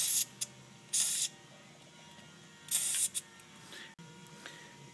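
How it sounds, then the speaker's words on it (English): Grease sprays from a can into the throttle tube channel of an Argo ATV in several short hissing bursts, close up, with quiet pauses between. "take some of your grease and spray it right down into the"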